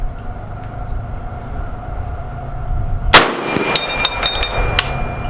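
An M1 Garand rifle fires at an outdoor range, one sharp report followed by several bright metallic clangs of rounds striking a steel target downrange, over a steady low background hum.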